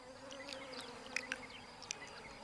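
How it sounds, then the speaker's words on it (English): Rhopalidia wasps buzz in a steady low drone close by, with a few brief higher whines and flicks as individual wasps move near. "A Rhopalidia wasp is tiny, less than half an inch long."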